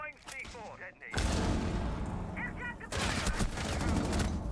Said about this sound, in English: Early gunfire being exchanged between the Maverick and the Vigil